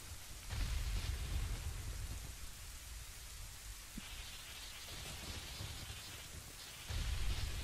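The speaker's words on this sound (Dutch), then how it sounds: "en begint meteen te stormen" Thunderstorm rain in the video game The Legend of Zelda: Ocarina of Time on the Nintendo 64 hisses steadily and softly, with low thunder rumbles swelling at the start and end.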